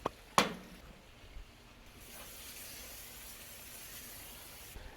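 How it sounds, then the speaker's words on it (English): Cooking spray is sprayed onto a grill before chicken wings go on: a sharp click, then a short loud hiss, followed by a faint, steady sizzle-like hiss that lingers quietly to the end. "Always spray down your grill so your food don't stick and it makes cleanup easier."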